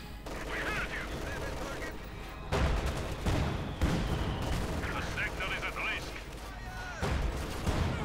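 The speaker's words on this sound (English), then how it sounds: "Got the Panzer IV blasting away." Panzer IV tank gunfire in Company of Heroes 2, heavy cannon blasts and explosions booming over continuous battle noise, with several loud impacts in succession.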